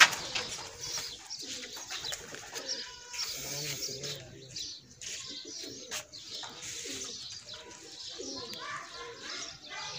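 Soft pigeon coos repeat close by among flapping and rustling during a village pigeon-flying contest, with a voice calling and talking at intervals.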